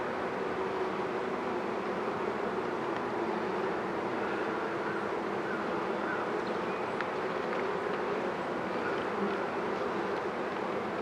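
A colony of honeybees buzzing steadily and close during a hive inspection with brood frames and queen cells, in a hive troubled by small hive beetles; a dense, unbroken drone runs throughout.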